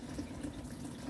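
Water pours steadily and quietly in a soft continuous trickle onto garden soil where lotus seeds are sown, close by, with no talking.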